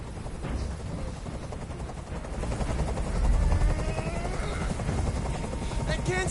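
Helicopter rotor drone in the video game Detroit: Become Human, a steady low thrum swelling a little louder midway, with faint sharp bursts and talk over it.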